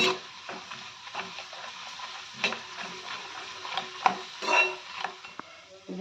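Papad crackles in hot oil in a pan, a soft, fairly quiet sizzle broken by irregular clicks and scrapes of a utensil against the pan.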